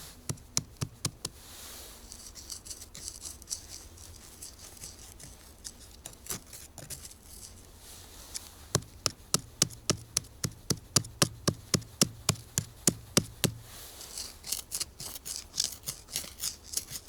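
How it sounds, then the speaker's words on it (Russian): A knife blade is stabbed again and again into forest ground to open a hole, giving sharp, close knocking impacts in irregular runs that speed up into dense rapid bursts toward the end. "Сформируем отверстие ножом."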